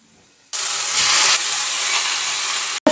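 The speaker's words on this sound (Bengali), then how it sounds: "তো শাকটা এবারে দিয়ে দেবো।" Jute greens drop into hot oil with fried garlic and a dried chili, setting off a sudden loud, steady sizzle that holds for a couple of seconds before cutting out.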